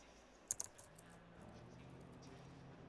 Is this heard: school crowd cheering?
no